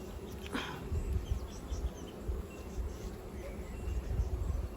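Honey bees hum and buzz around an open, crowded hive during beekeeping, a soft continuous drone close by with occasional brief louder passes of individual bees.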